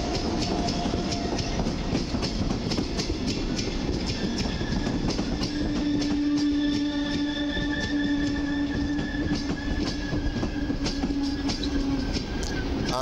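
A double-deck passenger train hauled by an EU47 locomotive rolls past close by at Warszawa Zachodnia station, a steady loud rumble with clacking wheels and a drawn-out metallic squeal midway.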